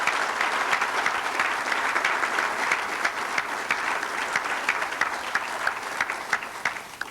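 A crowd at a youth sports volunteer recognition event gives a round of applause, a dense, steady wash of clapping with a few sharper individual claps standing out, fading slightly toward the end.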